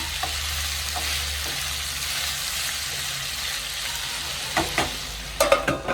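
Ivy gourd (kovakka) slices fry in a pan with a constant soft sizzle, then a few clattering scrapes as a spoon stirs them near the end, close up and without speech.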